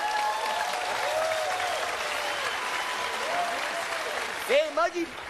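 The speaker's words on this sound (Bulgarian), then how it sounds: "Аплодисменти!" Audience applause during a comedy stage play parodying Titanic, a broad continuous wash of clapping held at a steady level, with voices and sliding musical tones mixed in over it.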